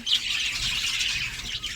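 Pet birds squabbling over a clay nest pot let out harsh, repeated squawks and chirps, close by and fairly loud, with no voices.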